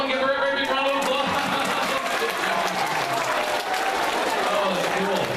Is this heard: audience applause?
yes